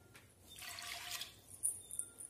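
Water is poured into a pot of horse gram with salt, turmeric and chili powder for a home-style curry, giving a short splashing gush followed by a few light drips and clinks, with no talking.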